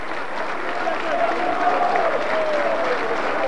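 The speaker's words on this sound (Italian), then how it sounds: "e si prende questi applausi" A stadium crowd at an Italian amateur football match, Bagheria vs Milazzo, applauds a hat-trick scorer as he is substituted: a broad, steady wash of distant applause and crowd noise, with a commentator talking over it.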